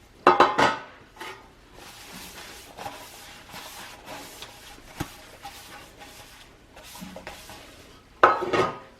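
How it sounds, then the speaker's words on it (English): Flour sprinkled and patted into oiled 8x4 metal loaf pans, with light metallic knocks and clatters of the pans, a busier burst at the start and another near the end, close up with no talk. "You just need to sprinkle a little flour onto the pans."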